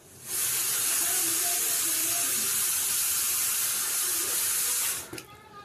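The sea at Paradip at night gives a steady, loud, broad rushing roar of surf that holds for about five seconds and then cuts off abruptly.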